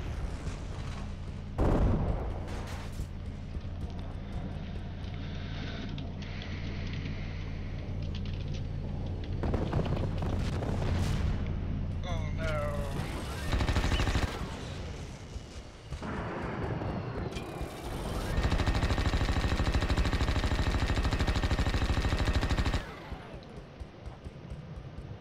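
Machine guns in the mech combat game MechWarrior Living Legends fire in long, loud, sustained bursts with heavy booming blasts, broken by short quieter gaps.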